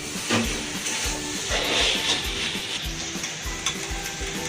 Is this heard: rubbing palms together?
no